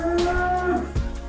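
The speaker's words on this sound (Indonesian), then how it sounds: "ini Belgian Blue" Belgian Blue cattle, a large beef breed raised for Qurban sacrifice, give a single drawn-out moo lasting about a second, close and loud in a farm pen, with a short low grunt following.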